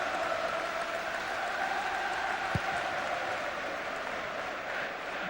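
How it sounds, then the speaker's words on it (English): A football stadium crowd at an Ipswich Town versus Torpedo Moskva UEFA Cup match in 2001 gives steady, broad applause that holds at an even level throughout. "Crowd appreciative, and I would think a little more confident than previously."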